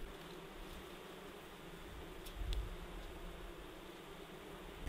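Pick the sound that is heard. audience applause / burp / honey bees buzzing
honey bees buzzing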